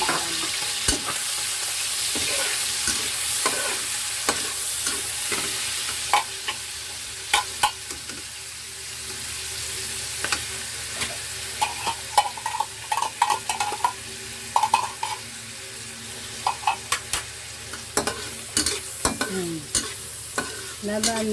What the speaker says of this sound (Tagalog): Labaan natin sa mantika, siyempre yung mushroom.